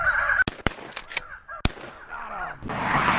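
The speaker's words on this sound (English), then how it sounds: "We're getting on some honkers today." Geese honk a few times in the open field of an Illinois hunt, in loud, short calls mixed with sharp clicks and wind noise, with no talk.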